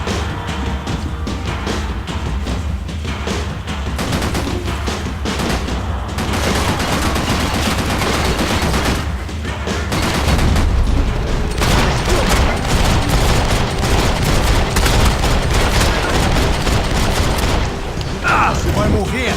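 Sustained heavy machine gun fire from an enemy gunner in the shooter game Max Payne 3, a dense, loud fusillade with booming impacts that intensifies in the second half, with a voice speaking under the barrage.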